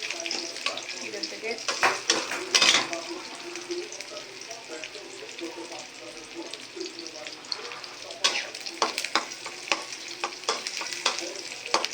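Malabar spinach greens fry with prawns in a pan, a busy sizzle broken by sharp scraping clicks of a spatula being stirred, loudest early on and again near the end, with a voice talking briefly in the background.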